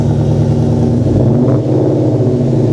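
A New Edge Ford Mustang with quad exhaust tips idles loudly nearby, then revs up once in a short burst of throttle before settling back.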